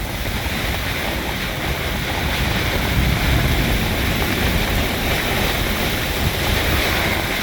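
Strong squall wind and churning waves at Hillsborough Inlet, a dense, unbroken roar of gusting wind buffeting the microphone over crashing water, loud and close throughout with slight surges in strength.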